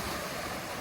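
Wind gusts at a rocky ocean side in Barotac Viejo, Iloilo, Philippines, make a steady broadband roar, with surf and wind buffeting the microphone throughout a brief moment.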